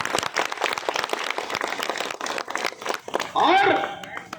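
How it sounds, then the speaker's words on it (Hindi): Audience applause at a WCREU railway union gathering, a burst of clapping rising loudly near the end under and after continuing speech, with crinkly crowd noise. "एक बार उनके लिए आप लोग तालियां बजाएं"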